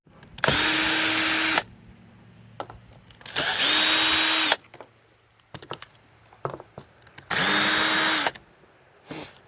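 A power drill backs screws out of a metal roof panel on a bathhouse, three loud sustained whirring runs of about a second each, separated by quieter clicks and handling noise.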